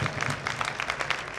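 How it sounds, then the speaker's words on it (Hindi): Brief, fairly faint applause from an audience at a Jain Panchkalyanak festival at Golden Temple in Rohini, scattered hand claps forming a steady patter. "दोनों हाथ खोल के तालियां तो बजाओ।"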